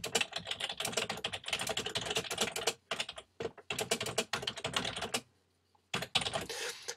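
Someone types text on a computer keyboard in quick, close bursts of clicking keystrokes, with a few short pauses and one longer gap before typing resumes.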